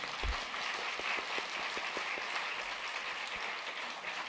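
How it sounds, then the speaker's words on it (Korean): The congregation at a Sunday Baptist worship service in a church hall applauds in a faint, continuous wash of distant clapping, with a few sharper claps poking through a hissy room background. "박수 좀 해주세요"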